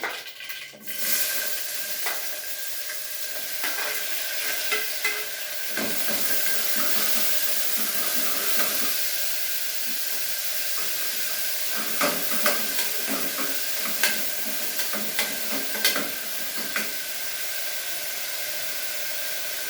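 Mustard seeds crackle and pop in hot oil in a pan while a tomato bath dish is prepared, a dense sizzling hiss broken by scattered sharp snaps, heard up close with no voices.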